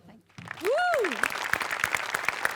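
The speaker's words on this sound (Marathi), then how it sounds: "आर्ट डिपार्टमेंटसाठी एकदा जोरदार टाळ्या" A studio audience bursts into loud, sustained applause for the art department after a comedy skit on the Marathi stage show Maharashtrachi Hasya Jatra. Dense, steady clapping follows a short rising-and-falling whistle-like tone.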